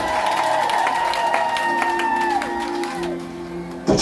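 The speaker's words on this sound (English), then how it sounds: "Give the Lord an applause." A church congregation at a Kibuku Mission service breaks into clapping and cheers. The applause is loud and mixed with sustained musical tones, then fades before a sudden sharp burst at the end.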